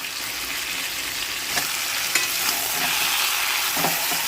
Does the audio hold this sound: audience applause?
no